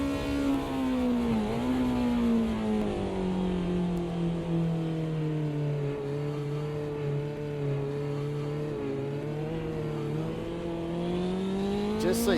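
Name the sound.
BMW Group 5 race cars accelerating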